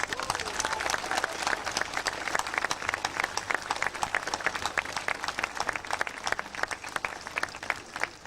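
A crowd at a Carriganass pageant claps continuously, a dense, lively patter of many hands that stays near and fairly loud throughout.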